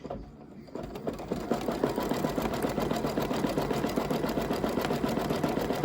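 A sewing machine stitches a seam on a towel topper, its rapid, even mechanical chatter starting after a brief pause and running steadily and close up, with no voices.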